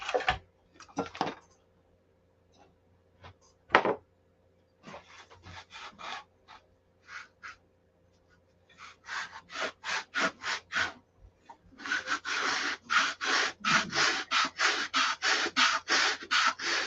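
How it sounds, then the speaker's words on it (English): A wooden VIPER stab is sanded by hand with scattered short scrapes at first, then steady rhythmic back-and-forth rasping strokes that grow louder and denser toward the end. "Let's work on sanding this side a little bit."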